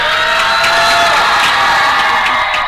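Home crowd at a women's college hockey home opener, a steady wash of cheering and whoops filling the arena, loud and continuous throughout with no break.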